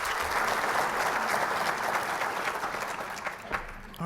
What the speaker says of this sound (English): rise and give them a round of applause because they work so hard